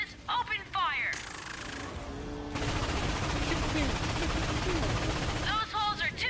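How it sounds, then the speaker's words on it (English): Defense cannon fire in the video game Ratchet and Clank, a dense roaring barrage of blasts and explosions sustained over several seconds, with game voices heard speaking near the start and end. "When the cannon charges, open fire!"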